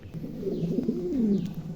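Pigeons of the Mundi breed coo softly nearby, a low warbling, rolling call repeated in a quiet setting.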